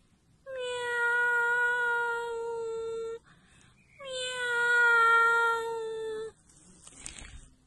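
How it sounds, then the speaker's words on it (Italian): A cat gives two long, drawn-out crying meows, each lasting a few seconds with a short pause between, loud and close, followed by a faint rustle. "Ma il gatto continua a piangere."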